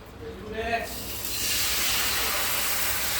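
Ground masala paste goes into a pan of chicken, giving a sudden loud, steady hiss and sizzle that builds and holds, with a brief murmur of talk at the start.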